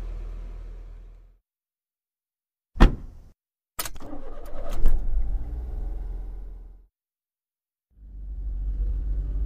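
A car engine rumbles low and steady, cuts out, then door clunks and a burst of handling noise follow before the engine hums again and the car drives on, with no talk over it.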